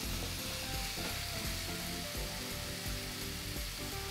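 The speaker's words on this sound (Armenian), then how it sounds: "Մինչ տապակվում է խճողակը" A filling fries in a hot pan with a steady, bright sizzle, broken by faint stirring knocks as it is moved around.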